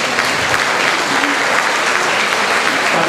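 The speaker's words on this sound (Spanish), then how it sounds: "Vamos a darle un aplauso." An audience at Riverside Church applauds at a peace-with-justice caravan event, a dense, steady wash of many hands clapping at once, loud and sustained throughout with no pauses.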